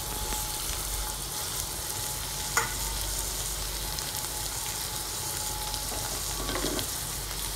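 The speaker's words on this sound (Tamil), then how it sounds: "அப்பப்போ கிளறி கொடுத்துக்கோங்க." Tomatoes sautéing in a pan for a spicy tomato chutney, with a steady low sizzle throughout and a couple of faint scrapes of stirring; no one speaks.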